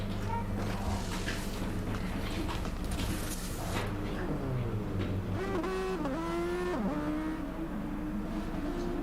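Race car engines in Gran Turismo Sport, a steady blend of revving and gear-shifting engine whine with rising and falling pitch sweeps and tire noise, continuous and loud throughout.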